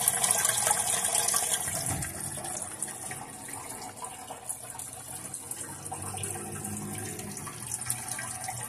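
Water rushes steadily into a toilet cistern through the fill valve of a coupled-tank kit, a continuous close hiss and gush that stays loud, with no talk.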